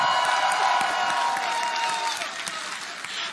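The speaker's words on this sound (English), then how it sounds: "Listen to the crowd." A large arena crowd at a Dota 2 esports event, DreamLeague Season 11, cheers and applauds in a sustained, dense roar that fades slightly toward the end.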